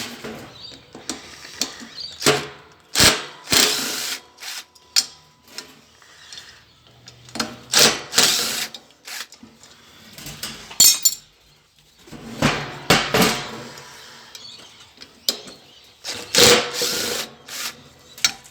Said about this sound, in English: I get these screws undone.